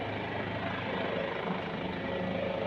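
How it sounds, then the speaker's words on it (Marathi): Steady rhythmic thudding and whine of a helicopter hovering nearby, constant in level for the whole stretch. "एका ठिकाणी हेलिकॉप्टर थांबलेलं आहे"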